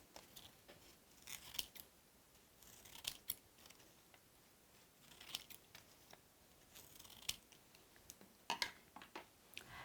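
Scissors snip through colored paper in a quiet room, a series of crisp, irregular cuts with small paper rustles between them, close and clear with no talking.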